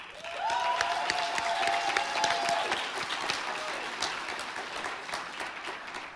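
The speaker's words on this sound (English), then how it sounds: "Let's give our students a round of applause." During a Sunday morning worship service, a church congregation gives students a sustained round of applause, with full crowd clapping throughout and a brief tonal voice or sustained note above it early on.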